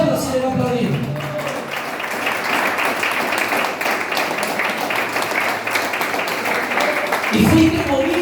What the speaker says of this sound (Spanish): Aplauda si le va a aplaudir